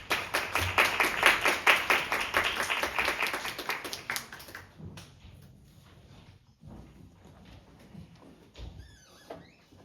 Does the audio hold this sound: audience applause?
yes